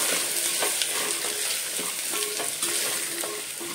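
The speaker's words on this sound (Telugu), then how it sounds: "ఇప్పుడు ఇందులో పసుపు, 2 చెంచాలంత కారం, సాల్ట్ వేసుకొని కలుపుకోవాలి మంచిగా." Baby potatoes and green peas are stirred in a hot pan with turmeric, chili powder and salt for a kurma, giving a steady sizzle broken by repeated scraping strokes of the spoon.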